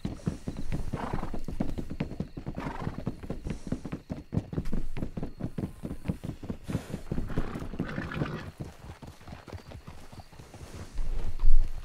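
A horse's hooves clip-clop in a rapid, steady rhythm close by for several seconds, with a whinny mixed in and a louder burst near the end.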